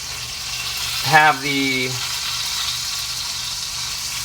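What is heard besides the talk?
ribeye steak searing in butter in a pan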